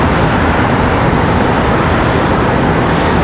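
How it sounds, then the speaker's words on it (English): American Airlines Airbus A321-200 departing Charlotte Douglas International for Los Angeles, a steady loud broadband jet roar that holds even throughout, with no speech. "This A321-200 off to Los Angeles."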